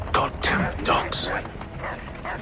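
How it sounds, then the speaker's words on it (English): Dogs barking in Assassin's Creed III, a short burst of several yips and barks mixed with shouting voices and game noise. "Goddamn dogs."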